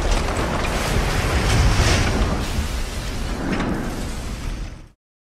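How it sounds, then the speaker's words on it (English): A bomb made of dynamite and cast iron weights detonates in a city street as a documentary sound effect, a loud, sustained roaring blast with rumbling, noisy debris lasting nearly five seconds before stopping abruptly into silence. "the bomb detonates."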